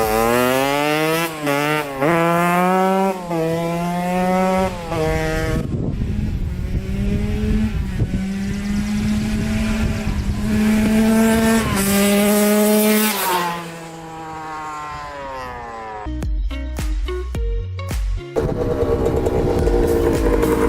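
A worn Suzuki RM 125 two-stroke dirt bike with shot bearings makes a top speed run down a road, its engine screaming up through repeated gear changes, loud and close, before chopping off and easing down near the end.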